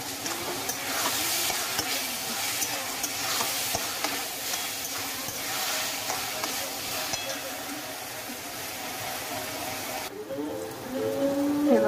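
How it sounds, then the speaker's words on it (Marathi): Tomatoes salted and softening in a pan for paneer bhurji hiss and sizzle steadily, with occasional stirring scrapes throughout; a louder sputter rises near the end. "टोमॅटो आपण चांगलं व्यवस्थित शिजवून घेऊया गळेपर्यंत।"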